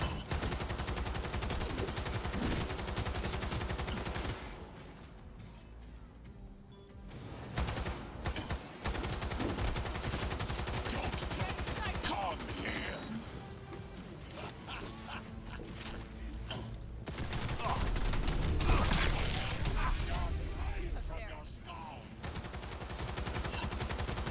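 Sustained bursts of gunfire from a gun in Cyberpunk 2077 fill the scene, loud and dense with rapid shots and mechanical clatter, briefly easing around a few pauses before resuming heavily.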